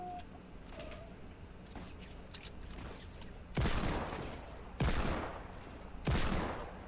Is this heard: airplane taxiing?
no